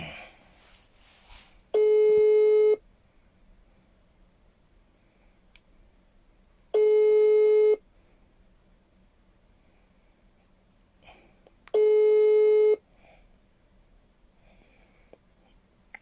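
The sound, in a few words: telephone tone while calling back on WhatsApp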